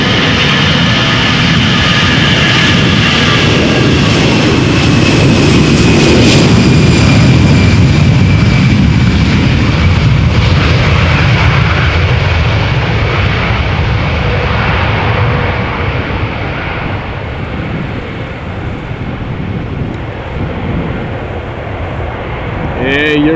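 A Turkish Anadolu Jet airliner departs Amsterdam Schiphol bound for Istanbul. Its loud, broad jet roar builds and then slowly fades as it climbs away, with wind buffeting the microphone and a voice speaking over it.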